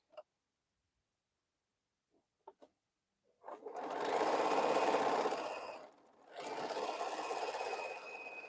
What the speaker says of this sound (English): just sew the pieces together.